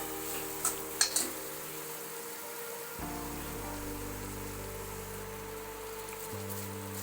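Chopped tomatoes fry in a hot spice masala while being stirred, giving a steady close sizzle with a few sharp clinks of the spoon near the start and a low hum underneath.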